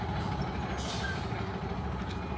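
Volvo B270F bus with an MWM engine at the Curitiba bus station, a sharp hiss of air brakes releasing over a steady low engine rumble, fairly quiet and somewhat distant.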